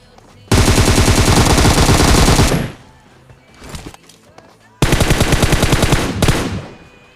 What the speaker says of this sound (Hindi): तो मुझे साउंड आया इस बंदे का फायरिंग का